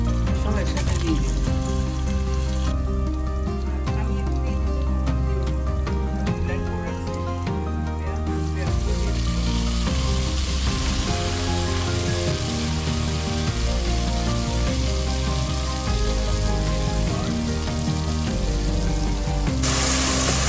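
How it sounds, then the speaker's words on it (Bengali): Onion, cinnamon pieces, bay leaves and five cardamom pods sizzling in hot oil for chicken curry, a loud continuous close frying hiss with someone speaking over it. "আর এখানে আমি দিয়ে দিচ্ছি একটা পেঁয়াজ, তারপরে এখানে কয়েক টুকরা দারচিনি, কয়েক পিস তেজপাতা, আর পাঁচটা এলাচি সব একসাথে দিয়ে দিচ্ছি।"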